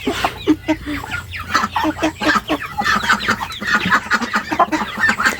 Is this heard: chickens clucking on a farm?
yes